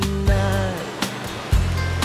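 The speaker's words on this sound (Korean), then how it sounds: "하코와 인근의 에르보스는 파도가 높아 서퍼들이 많이 몰린다." Surf at Jaco Beach, Costa Rica, a popular surfing spot with high waves, comes in loud, close bursts of crashing water, three surges over a steady wash, with tonal music running underneath.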